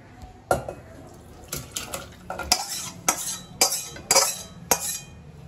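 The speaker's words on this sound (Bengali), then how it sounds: "এবার চিকেন কারিটা আমি একটা অন্য পাত্রে ঢেলে নেব।" Chicken curry being scooped and poured from one cooking pot into another, with sharp metal spoon scrapes and clanks against the pots recurring every half second or so, close and loud, no talk.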